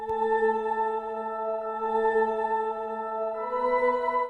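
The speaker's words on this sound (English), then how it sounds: "Cinematic pad to make it feel a bit fuller and kind of like scarier in some way." Cinematic synth pad holding a steady, sustained chord with smooth, even tones, soft and alone, with the chord shifting slightly near the end.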